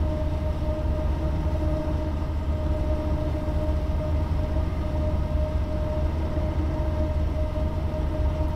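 A GE AC4400 locomotive in Train Simulator 2018, its steady diesel drone and low rumble running continuously with a constant whining tone on top, even and unbroken throughout.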